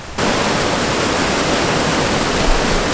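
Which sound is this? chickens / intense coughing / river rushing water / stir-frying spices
river rushing water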